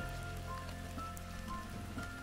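Heavy rain falls steadily on a winter mountain hike, a dense close patter on gear and ground with no talking.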